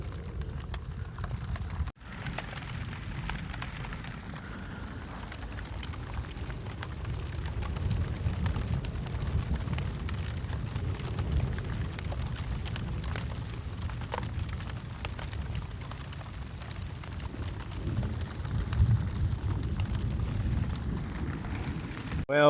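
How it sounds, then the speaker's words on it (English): Heavy rain pours down across the Sebastian Scrub Conservation Area, a dense, continuous hiss and patter that stays loud and steady for the whole stretch, with a sharp knock near the start and no voices. "this rain is not subsiding and it looks like it's about to get way worse"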